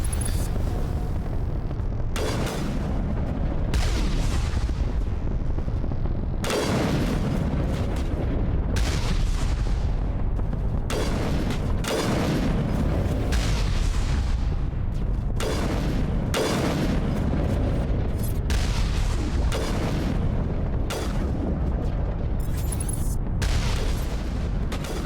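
Sniper rifle shots in Mass Effect Legendary Edition, heavy booming blasts repeating roughly every couple of seconds over about twenty-five seconds, loud with long rumbling tails and no talk.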